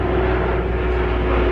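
An airplane drones overhead with a steady, loud, broadband engine roar and a low hum underneath. The sound holds evenly throughout with no speech.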